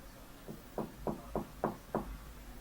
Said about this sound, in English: knocking sounds polite yet urgent